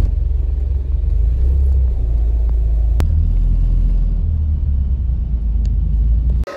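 Cars idle and creep in the Quinta Market parking lot, a steady low engine rumble close by throughout, with a brief sharp knock near the middle and no talking.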